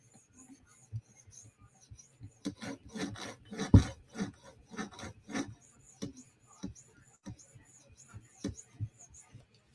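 A PM2 tanto knife's primary bevel is drawn across a sharpening stone in a rhythmic series of close, dry rasping strokes, quiet at first and then steady, with a few louder scrapes.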